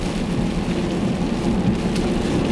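Steady heavy rain falls during an all-day downpour, a dense continuous hiss of drops hitting surfaces, close and fairly loud, with no voices.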